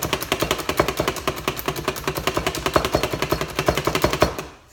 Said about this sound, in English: And then here I have the food chopper with about half onion and like 4 garlic.